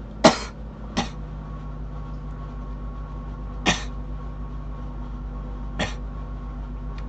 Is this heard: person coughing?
yes